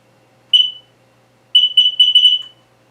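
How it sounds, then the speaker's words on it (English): A combination smoke and carbon monoxide detector sounding its test signal: one loud, piercing electronic beep, a pause, then a quick run of four or five beeps, close and alone in a quiet room. "That's a beep letting us know that it's tested and working."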